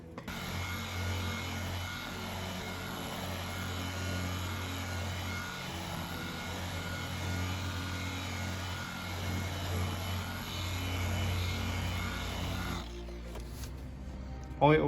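Machine polisher buffing black Subaru STI car paint with CarPro Clear Cut compound, a loud continuous droning whine held steady for the whole stretch, ending with a few clunks.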